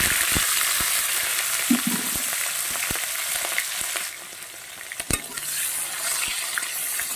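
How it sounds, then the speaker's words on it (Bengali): Onions, tomatoes and chillies sizzle in a pan for a cauliflower and potato curry, a steady hiss of frying broken by repeated sharp clicks and scrapes of a spoon stirring, with no talking. "তো বন্ধুরা এটাকে ভালো করে আমি ভাজতে থাকি"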